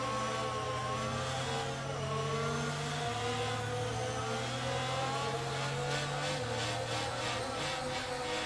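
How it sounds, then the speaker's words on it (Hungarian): In the F1 22 racing game, a safety car's engine hums steadily throughout, a continuous droning tone that shifts pitch slightly a couple of times, with no speech over it. "jobban hallom a safety car búgását, mint a Forma 1-es autókért."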